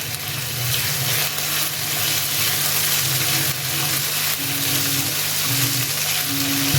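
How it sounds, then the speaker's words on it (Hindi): Ginger garlic paste sizzling in hot oil in a pan, a steady loud frying hiss that runs continuously with faint stirring, close up and without speech. "तो ऑयल हमारा गर्म हो गया तो हम डालेंगे अदरक लहसुन का पेस्ट 2 टेबलस्पून जितना।"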